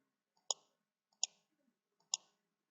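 Three crisp computer mouse clicks during a school management software demo, evenly spaced about two-thirds of a second apart, close and sharp against near silence.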